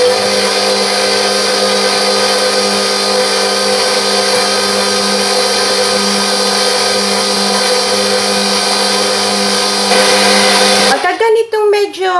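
Electric stand mixer kneading soft bread roll dough, a steady loud motor whir with constant tonal hum running continuously, then cutting off near the end as a voice begins talking.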